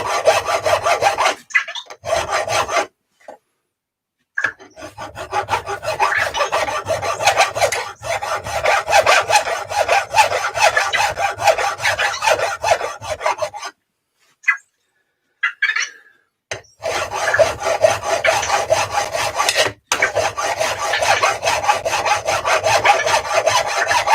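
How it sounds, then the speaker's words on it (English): A hand file rasps in long, steady back-and-forth strokes on a Losi SBR 2.0 RC car part, close and clear, with a few brief pauses between bursts. "So I'm going to recorrect how I'm filing that."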